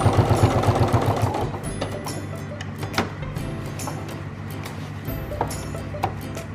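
A sewing machine stitches across webbing, starting with a fast rhythmic motor hum and needle clatter, then slowing to intermittent short runs, clicks and pauses, close and moderately quiet.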